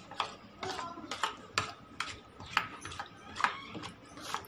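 Besan kadhi batter being stirred with salt and masala in a bowl, a quiet series of irregular clicking and scraping strokes repeating about twice a second, close and alone.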